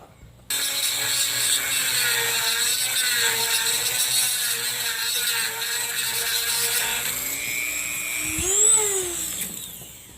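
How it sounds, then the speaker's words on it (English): Sandpaper scrubbing a corroded aluminum drive shaft yoke on a 2010 Ford F-150, a steady close rasping that runs almost the whole time and shifts in pitch near the end. "I'm going to clean this up with some sandpaper here"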